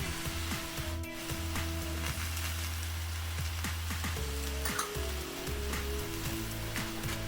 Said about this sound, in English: we're going to cook these mushrooms now until all the moisture has come out of the mushrooms